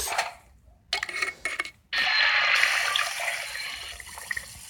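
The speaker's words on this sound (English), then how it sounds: "Let's just add water now." Tap water runs steadily into a pot in a home kitchen, a loud continuous gush after a few brief bursts of flow, close by with no talking.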